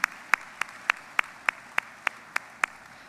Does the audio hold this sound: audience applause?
yes